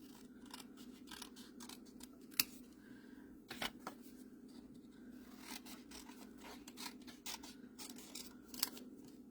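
Scissors snip and slide through paper as pieces are cut down for a die cutter, a quiet run of irregular short cuts and rustles close by, with no talk.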